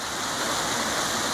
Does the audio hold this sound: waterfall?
yes